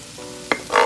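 Red peppers dropped into a hot frying pan while cooking spicy chicken and shrimp chow mein, a brief scrape followed by a sudden burst of sizzling, close and fairly loud, with no talking.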